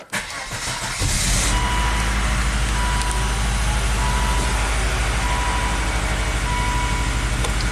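A Volvo XC70 engine cranks and catches about a second in, then settles into a steady, loud idle that runs on without a break; no one talks.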